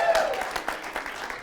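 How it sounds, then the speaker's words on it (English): Audience applause at a live talk event, a short burst of clapping from a crowd, fairly close and steady, fading slightly toward the end. "Round of applause."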